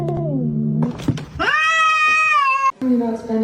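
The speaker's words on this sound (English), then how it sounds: "This is my cat Mimi." A pet cat meows loudly at close range, a drawn-out, rising and falling cry, while a person talks over it before and after.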